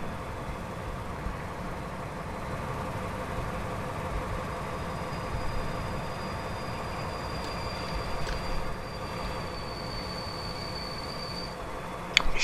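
Wheels squeal in a thin, drawn-out high whine under a BR 218 diesel locomotive hauling Silberling coaches in a train simulator, riding over a constant low rumble of rolling stock for several seconds.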